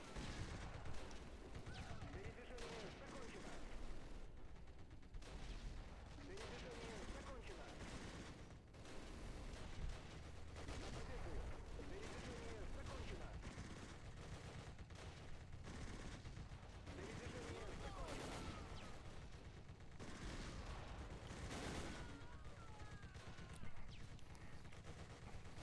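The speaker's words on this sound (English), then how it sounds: "I did see some gunfire coming out of that 3-story" Gunfire in the Close Combat video game, dense rattling bursts of small-arms and machine-gun fire continuing throughout with some heavier reports, fairly quiet overall and with someone talking over parts of it.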